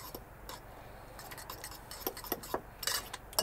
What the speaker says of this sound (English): Stirring in nicely.